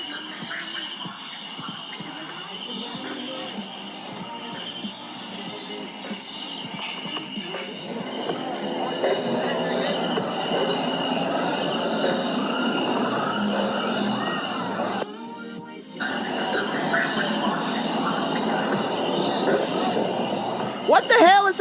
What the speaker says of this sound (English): Let me play you these giant cricket noises